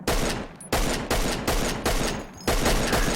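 Six heavy shots from an oversized pistol in Forgotten Hope 2, loud and close, fired at a steady pace roughly half a second apart, each boom ringing out into the next.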